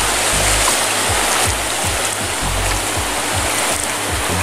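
A person wades through a slippery stream near old tunnels on a warm morning, with the steady loud rush of flowing water and splashing throughout, close and continuous, with no talking.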